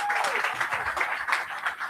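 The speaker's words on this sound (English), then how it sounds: "Please give the gentleman a round of applause." Audience applause at a sommelier competition grand final, a steady wash of many hands clapping throughout, moderately loud with a faint voice underneath.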